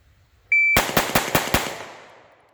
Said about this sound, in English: I've never shot this gun, but let's find out.